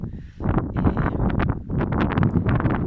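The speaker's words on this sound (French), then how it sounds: "J'espère qu'on m'entend encore avec le vent." Strong outdoor wind buffets the microphone near a caravan, a steady loud roaring rumble with gusty surges throughout and no voice heard.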